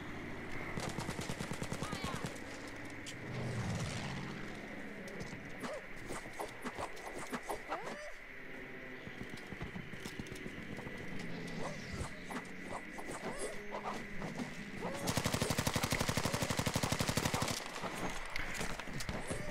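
Light machine gun fire in Battlefield V on the Pacific Storm map, sustained rapid automatic bursts with other gunfire and battle noise, growing loudest near the end.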